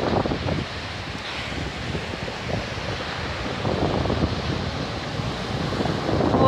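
Sea waves and wind on the beach at Palanga, a continuous broadband roar of surf with gusty wind buffeting the microphone, no talk.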